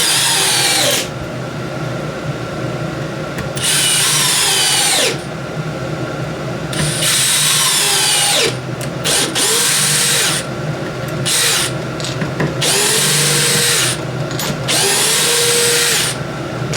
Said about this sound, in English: Plenty of power out of that little 12 volt drill.